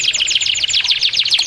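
A canary sings nearby in a loud, rapid run of bright trilled notes with no pauses, close and clear with no voices over it.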